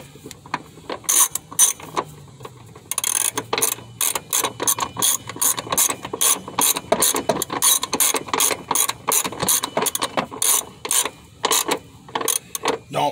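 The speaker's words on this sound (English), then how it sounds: "Set your ratchet. Turn the switch to the left so you can tighten up to the right." A socket ratchet clicks in quick, rapid bursts as it tightens a rear shock bolt on a 2005 Chevy Malibu, close and crisp, pausing briefly between strokes.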